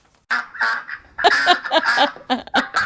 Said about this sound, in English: it sounds like David's Ducks are at it again